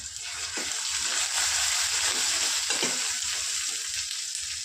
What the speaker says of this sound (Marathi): बघा अंडी फ्राय होत आहे.